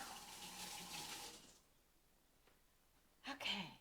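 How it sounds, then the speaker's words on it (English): Hands washed under a running kitchen tap, water streaming steadily for about a second and a half, then a pause and a brief second gush near the end. "Let me wash my hands."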